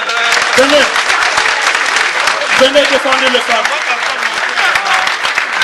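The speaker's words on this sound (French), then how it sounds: "Applaudissez pour elle." Audience applause at a Miss Afrique pageant, dense and steady throughout, with a voice calling out over the clapping.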